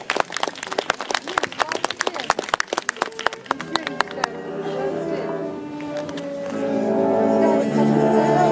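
A concert audience claps in sharp, brisk applause for soloists of a military academy orchestra at a birthday concert for Utyosov. After about four seconds the clapping gives way to orchestral music.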